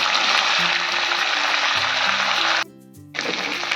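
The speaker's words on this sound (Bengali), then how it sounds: "আরও কিছুক্ষণ ভেজে নেবো ভালো করে।" Chicken chaap frying in a pan over raised heat gives a loud, steady sizzle, broken by a half-second drop near the end before the crackle returns.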